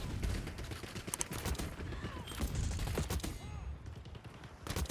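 Rapid bursts of hand cannon gunfire in the Black Ops 6 video game, sharp repeated shots over a busy, loud game mix with no talking.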